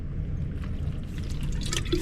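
A dog laps seawater at the North Jetty on Humboldt Bay in Eureka, California, making soft, wet, dripping splashes over a low steady background of wind and surf.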